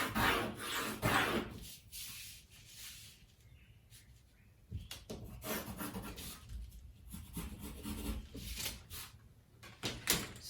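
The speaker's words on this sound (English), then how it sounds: "you're just going to use your curve ruler to" A pencil or marker scratches and rubs against paper along a curve ruler while a skirt pattern is drafted, in soft close strokes that come in bursts with pauses between them.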